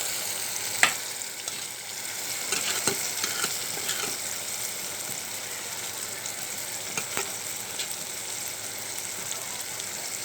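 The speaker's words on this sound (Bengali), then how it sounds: "এখন আমি মাছগুলো ঢেলে দেব।" Small kechki fish fry in hot oil in a pan with a steady, dense sizzle, broken by a few sharp clicks and spatula scrapes, close by and fairly loud throughout.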